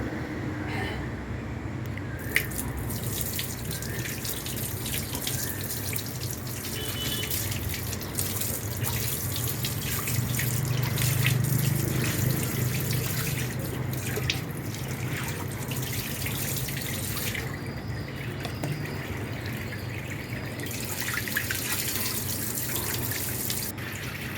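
Running tap water streams steadily over a part from a reverse-osmosis (RO) water filter on a borewell supply as it is washed, a continuous near splash and trickle with no talking.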